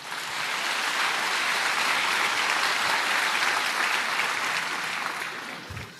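A church congregation applauds together, a dense, loud and steady wash of clapping that holds for several seconds before fading slightly.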